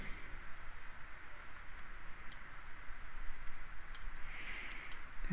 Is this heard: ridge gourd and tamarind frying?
no